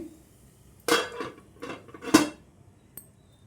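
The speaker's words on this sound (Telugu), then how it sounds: "ఇప్పుడు మూత పెట్టేసుకుందాం అండి" A metal lid set onto a dosa pan in a home kitchen, with two or three sharp, close clinks and clatters separated by quiet, then a faint final tap.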